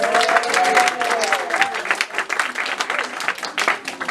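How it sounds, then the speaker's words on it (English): An audience applauding a one-man-band composer and musician at a stage show, dense clapping with a voice heard over its start, then thinning slightly while continuing to the end. "So let's give him a big round of applause."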